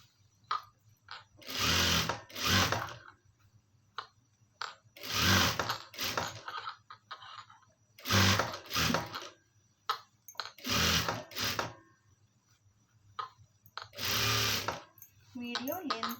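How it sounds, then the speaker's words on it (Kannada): A sewing machine runs a double stitch in several close, loud whirring bursts of about a second each, separated by pauses filled with quiet handling sounds. "ನೋಡಿ, ಈಗ ಡಬಲ್ ಸ್ಟಿಚ್ ಹಾಕೋಣ."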